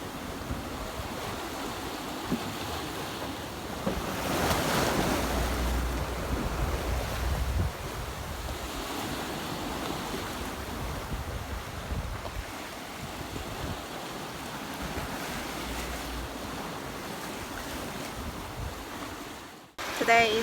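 Ocean waves wash and surge around a sailboat on an Atlantic crossing as wind buffets the microphone, a continuous rushing roar with swelling peaks, up close and unbroken until a sudden cutoff.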